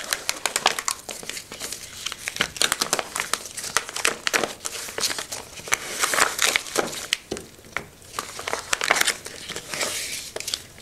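Thermo-FILM heat transfer film, used for team uniform names and numbers, peeled off its pressure-sensitive carrier in a run of close, loud crinkling and crackling tears with short pauses, alone and without talk.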